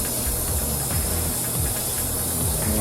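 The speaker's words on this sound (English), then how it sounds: "Just going to rinse that out, make sure that we got everything rinsed before we put our sauce in there." Running water rinsing out a kitchen pan after shrimp, a steady close hissing splash with no pauses and no speech.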